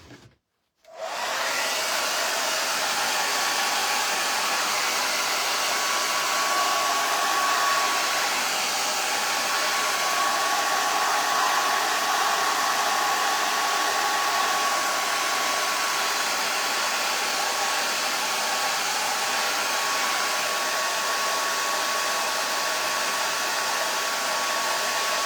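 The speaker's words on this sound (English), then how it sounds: "I'm just gonna blow dry it quickly" A hair dryer blows steadily on fresh paint on a Mardi Gras tree topper. After a brief quiet start, the loud, even roar runs alone for about 24 seconds.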